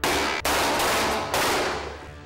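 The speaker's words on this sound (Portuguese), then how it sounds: "Do gabinete para um estande de tiro." Loud gunfire at an indoor shooting range, with two sharp shots that each ring out into a long sustained echo filling the space.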